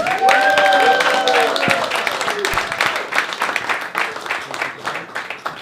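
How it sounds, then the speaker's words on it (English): An open mic stand-up comedy crowd applauds as the first comic of the night comes on. Clapping is continuous and fairly loud, with a few brief tonal whistle-like sounds near the start. "I want you guys to give a round of applause for your first comic of the night."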